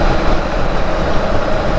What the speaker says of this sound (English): Oh, noisy truck, sorry.